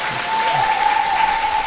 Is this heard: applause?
yes